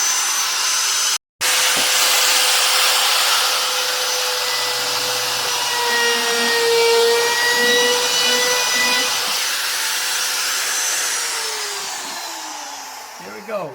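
Power drill boring holes in a wooden napkin holder, a loud continuous whine close by that runs almost the whole time, with a brief cutoff near the start and a gradual wind-down at the end.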